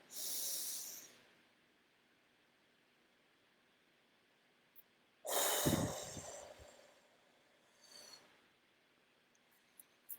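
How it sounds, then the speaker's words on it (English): A close, deep breath drawn in with a soft airy hiss, a pause, then a long, forceful exhale through the nose and mouth, followed later by a fainter short breath in a quiet room. "Another deep breath."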